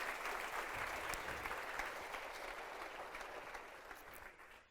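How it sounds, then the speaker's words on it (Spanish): A church congregation claps together in steady, dense applause, fairly quiet and distant, tapering off toward the end. "Denle un aplauso al Señor en esta mañana"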